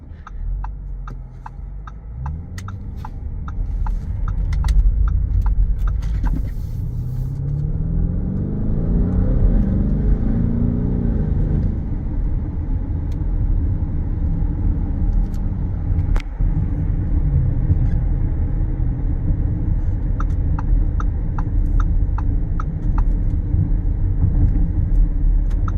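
A 2021 Lamborghini Urus engine while driving, a deep close rumble that rises and falls through downshifts and revs, sustained throughout with occasional sharp clicks and no talking.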